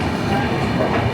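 Amritsar Nanded Sachkhand Express pulling into Pachora Junction, a steady close rumble of rolling rail wagons with faint wheel clatter throughout, no voices over it.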